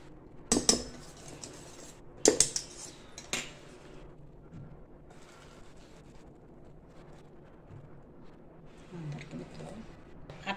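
A metal cooker vessel sets down with a few clattering clinks into a wide pan of water heating on the stove for moong dal dhokla, followed by quiet kitchen background noise.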